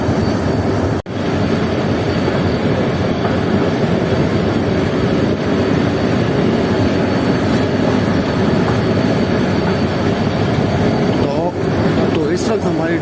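The Marvi Passenger train runs through the Thar Desert, a loud, steady rumble and rattle of carriages heard from inside that continues without a break throughout.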